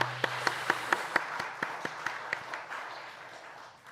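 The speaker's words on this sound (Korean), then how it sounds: "우리 다시 한번 우리 모든 분들을 위해서 한번 박수 한번 하겠습니다" Scattered, fairly faint clapping from a church congregation at a Wednesday service after a men's vocal ensemble sings, with distinct individual claps at first that blur into softer, thinning applause.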